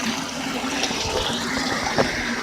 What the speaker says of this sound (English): you can see the water level starts to go down, and it actually sucks all the water back out to almost a dry bed.